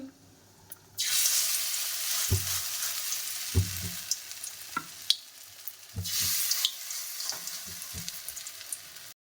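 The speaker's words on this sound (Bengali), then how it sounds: "আমার পছন্দের একটা রান্না এই যে বড়া ভাজা কুমড়া ফুলের বড়া ভাজা" Pumpkin flower fritters in a spiced lentil batter with chili powder, turmeric, salt and green chili frying in hot oil, a steady loud sizzle broken by repeated stirring and scraping knocks, with no talking.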